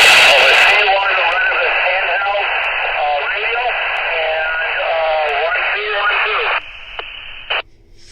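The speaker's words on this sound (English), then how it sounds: "yes, there's some static. You can hear it, but you can definitely still make out the audio." Hiss and static crackle from a Retevis C1 handheld GMRS radio during a distance test, a loud continuous noise carrying a voice over the radio, cutting out abruptly near the end.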